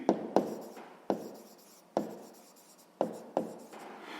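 Pen or pencil scratching on paper as numbers are written by hand, a sequence of short, close strokes and taps, each starting sharply and then fading, with pauses between.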